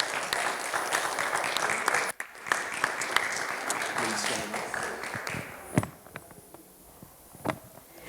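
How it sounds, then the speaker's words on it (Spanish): A church congregation claps together in a dense, sustained round of applause that thins out into scattered individual claps, with voices audible beneath it. "Un fuerte aplauso al Señor."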